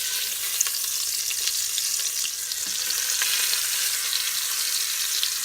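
Short ribs sear in olive oil inside an Instant Pot, a steady loud crackling sizzle with a few sharper pops and faint clinks throughout.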